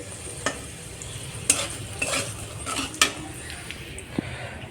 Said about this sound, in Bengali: আলুগুলো সুন্দর লাল লাল করে ভাজা হয়ে গেছে এবার আলুগুলো তুলে নেব